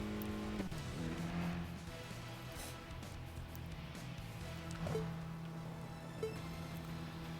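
Subaru WRX racing on the expressway in Tokyo Xtreme Racer 2025, a game engine note revving and shifting through rising and falling pitches with faint tire noise, fairly quiet and steady.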